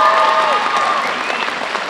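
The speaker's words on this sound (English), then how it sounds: "Adele Frackleton, let's give her a round of applause," A school varsity jacket night audience applauds loudly and continuously, a dense wash of clapping with a faint whistle or cheer rising over it.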